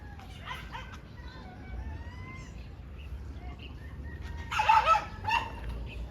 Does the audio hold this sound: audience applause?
no